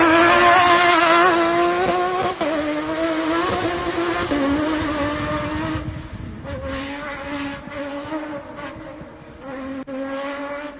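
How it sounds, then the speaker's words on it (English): A Lofthouse Motorsport rally car on test before a British championship round runs hard and loud, engine revving and changing pitch with gear shifts and brief drops, sounding close throughout with no talk. "This is one of the Lofthouse Motorsport with Justin Birchall in test before the first round of the British"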